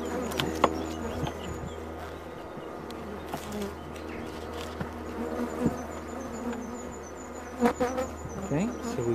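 Honey bees buzzing around an open hive during an inspection while a colony is split into a nuc: a dense, continuous close drone with individual bees whizzing past the microphone.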